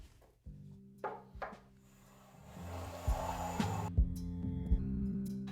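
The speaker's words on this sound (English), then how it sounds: "Simply using a plane and checking with a small square." Wood rasps and scrapes as a hand plane squares a board edge while making a pegboard, with a long shaving stroke and a few knocks and taps.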